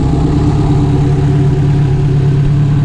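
Turbocharged car engine with a full fuel system and turbo kit, idling on an untuned base map with no boost control: a steady, loud low rumble held evenly throughout, close by.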